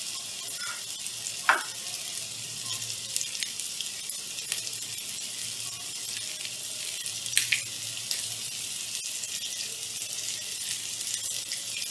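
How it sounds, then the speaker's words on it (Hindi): Chicken pieces for a crispy zinger burger shallow-fry in oil over low heat, producing a soft, continuous sizzle with a few faint pops and crackles standing out now and then. "हम शैलो फ्राई कर रहे हैं, बहुत ज़्यादा डीप फ्राई नहीं कर रहे हैं इनको।"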